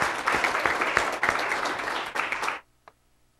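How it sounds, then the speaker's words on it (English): A forum audience breaks into a round of applause, dense sustained clapping that cuts off abruptly after about two and a half seconds, followed by near silence. "let's hear a round of applause for them"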